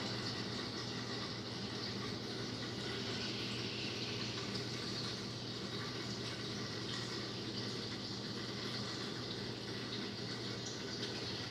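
Water runs steadily through the post filter of an AC30 filtration system as it rinses out carbon fines after a filter change, a continuous close rushing flow with no voices.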